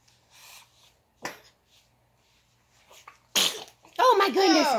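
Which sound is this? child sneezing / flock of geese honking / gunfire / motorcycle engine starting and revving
child sneezing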